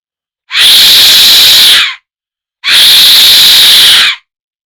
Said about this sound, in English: These death whistles are believed to have been used in Aztec rituals